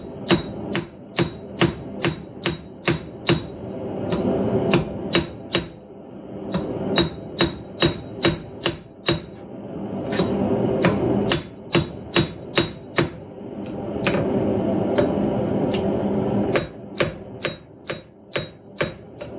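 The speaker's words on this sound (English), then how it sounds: "I'm going to try using this hammer, because it's got a pretty wide cross peen" Sharp, ringing blows of a wide cross-peen hammer forging steel, in quick rhythmic bursts, pausing briefly between runs, close and loud.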